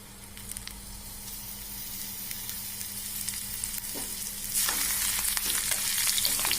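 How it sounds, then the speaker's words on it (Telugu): Tulsi leaves drop into a hot pan of oil and fry, a close steady sizzle that suddenly swells louder and brighter partway through as they are added and stirred, with no voices. "ఇప్పుడు మనం దీంట్లోకి తులసాకులు వేసుకుందాము"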